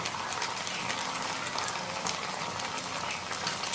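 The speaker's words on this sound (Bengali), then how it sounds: "আর এখন আদাটা আর রসুনটা ভালো মতো আমি ভেজে নেব" Ginger garlic paste frying in a pan for a Bengali egg curry crackles and sizzles close up, a dense steady spatter with scattered sharper pops.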